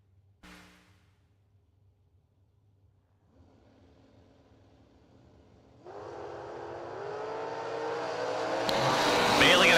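Drag race between a Chevrolet Cobalt and a Ford Mustang: quiet idle at first, then engines build and roar from a distance, swelling into a loud, rising acceleration toward the end.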